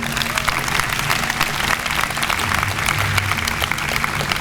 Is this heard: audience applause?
yes